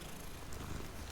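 A cat being petted in Hogwarts Legacy purrs in a soft, steady, continuous rumble, faint and close, with no talk over it.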